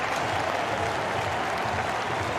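A cricket crowd applauding a century in a one-day international, with dense sustained clapping and cheering from a large stadium audience, loud and continuous throughout.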